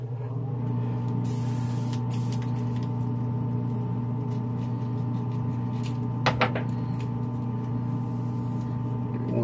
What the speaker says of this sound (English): I'm going to turn my booth on.